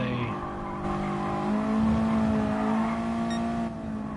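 A race car on a track in an amateur racing video game holds a steady high engine whine that climbs in pitch as it accelerates, loud and close, with a faint tire squeal and no talk.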